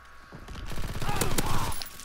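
Sniper rifle fire in a WWII shooter game, a few sharp cracks mixed into busy battle noise with speech over it.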